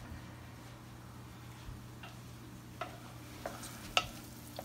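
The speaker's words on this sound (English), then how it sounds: "it's sizzling just a little bit on the edges" Cornbread batter and hamburger meat sizzle faintly in a skillet, a soft steady fry with a few small pops and clicks from stirring, quiet and close with no talking.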